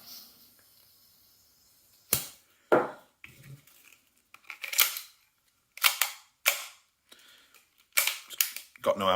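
A KWA MAC11 gas blowback airsoft SMG dry-fires without ammo, giving a series of sharp, loud metallic clacks of the bolt cycling. The shots come in single shots and quick pairs with short pauses, close by and alone.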